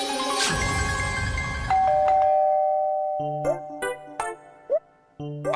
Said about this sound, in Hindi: दरवाजे पे डोरबेल बज रही है, दरवाजा खोलो।